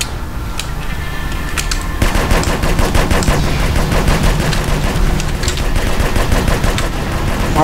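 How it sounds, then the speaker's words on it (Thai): Relentless automatic gunfire in GTA San Andreas, loud and close, with rapid machine-gun bursts that thicken after the first couple of seconds into a dense, continuous barrage. "ยิงนั่นแหลกลานเลยสนั่นเมืองกันหมดเลยฮะ"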